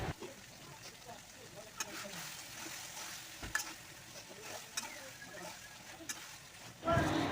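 Chicken and potato curry fries and is stirred in a pan, a faint sizzle with occasional sharp scraping and clanking of the spoon, ending in a louder clatter.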